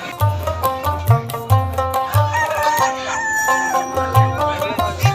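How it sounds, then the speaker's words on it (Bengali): Chickens and roosters at a crowded rural poultry market, with repeated loud crowing and clucking from several birds close by and overlapping calls over a low market bustle. "হাঁস মুরগি কিন্তু প্রচুর উঠে থাকে এই হাটে"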